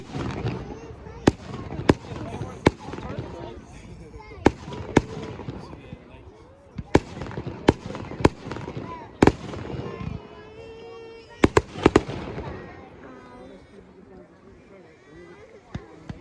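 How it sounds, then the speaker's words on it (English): Rapid sharp cracks of burst fireworks go off repeatedly and irregularly at a Bonfire Night display in Newtonhill, Scotland, some clustered together, while people talk and chatter underneath. "Have you noticed that that's a burst firework?"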